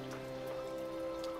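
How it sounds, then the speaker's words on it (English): Rain falling on a rainy day, a faint, steady patter with no talking, sitting over a constant low indoor hum. "It's raining again, but I love the rain."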